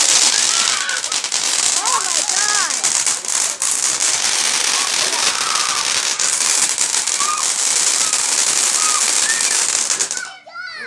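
Fireworks fire off in a dense, continuous barrage of crackling pops and bursts outdoors, loud and steady for about ten seconds before cutting off abruptly, with voices talking underneath.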